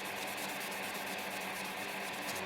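Wet cloth or sponge rubbing a rough plastic part of a Bandai 1:100 Macross Missile Phalanx model kit, a steady close-up scrubbing hiss with a soft rhythmic texture, running continuously with no voices.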